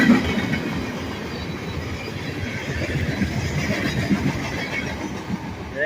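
A freight train carrying plastic pellets rumbles steadily past up close, with continuous rolling wheel noise and faint clatter on the rails, no voices.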